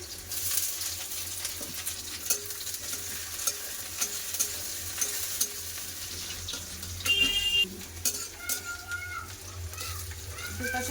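Onions sizzle in hot oil with steady crackling, broken by scraping stirs of a utensil in the pan; the sound stays close and constant.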